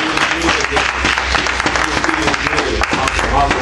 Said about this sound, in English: Come on, give God a round of